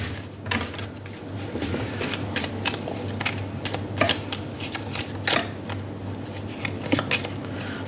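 Tarot cards are shuffled by hand, a steady run of riffling, flicking card sounds with sharp slaps every second or so, close up over a low hum.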